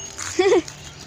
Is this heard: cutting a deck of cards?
no